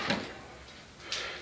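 A drawer on a US General 26-inch metal tool box slides open, giving a short scraping rattle at the start and another brief sliding clatter about a second later, close and fairly loud.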